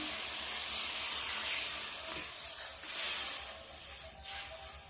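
Fish curry with winter vegetables simmers in a pan, giving a steady soft hiss and bubbling that swells and fades a few times, close by with no talk.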